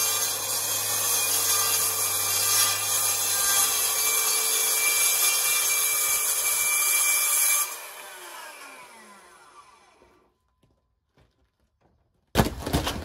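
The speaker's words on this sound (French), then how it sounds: "J'ai juste à couper, vraiment juste à faire une coupe en longueur." A power saw cuts a sliding wardrobe door to length with a loud, continuous rasping whine for about eight seconds, then winds down and fades to near silence before a short burst of noise returns at the end.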